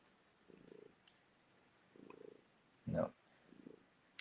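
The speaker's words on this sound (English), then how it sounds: "I think you can hear her purring." A cat purring softly up close in slow, low rumbling pulses, with a brief louder thump partway through.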